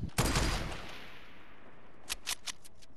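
Fortnite gunfire: a loud, dense burst of rapid shots opens, fades into a decaying roar, then several sharp separate shots crack near the end.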